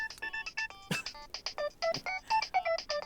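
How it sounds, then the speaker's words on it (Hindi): A mobile phone rings with a rapid melodic electronic ringtone of short bright tones in a quick repeating pattern, fairly close, with no one speaking over it. "मेरे ख्याल से फोन उठा लीजिए, नहीं तो वाकई इमरजेंसी हो जाएगी।"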